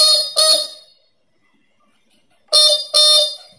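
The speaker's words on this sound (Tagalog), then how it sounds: "ito yung kanyang busina, left and right" Horn on a Gogo Onyx 450W electric bike sounds in two loud, bright beeps, then after a pause of about a second and a half, two more close together, each one short and sharp.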